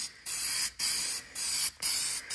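Aerosol spray paint being applied in light coats of black to smooth metal chimney parts, four close hissing bursts of about half a second each separated by brief gaps.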